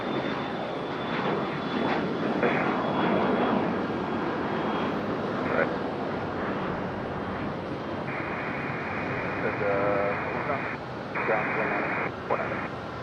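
Airplane engines roar steadily at Raleigh-Durham International Airport on runway 5 left during takeoff, a loud sustained rumble with a radio voice talking over it intermittently.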